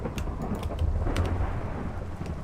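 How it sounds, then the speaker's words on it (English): Thunder rolls in a Minecraft world, a brief low rumble with rain hiss and sharp crackles, fairly soft and heard alone. "the thunder rolls inside here"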